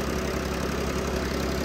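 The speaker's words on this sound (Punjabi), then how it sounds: "ਦੋ ਟਰੈਕਟਰ ਲੱਗੇ ਹੋਏ ਆ ਬਲਾਰਸ ਆ ਇਹ ਪਿੱਛੇ ਜਿਹੜਾ ਲੱਗਿਆ ਹੋਇਆ ਮੈਸੀ" A Massey tractor engine drives a mini brick-making machine, giving a steady, loud, close mechanical drone with a constant low hum and no pauses.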